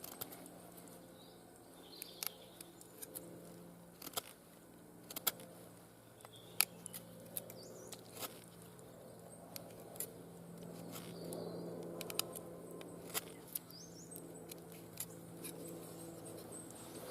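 A knife whittles a point on a wooden tent peg, giving faint, quiet scraping and shaving strokes with scattered small clicks over a low background hum.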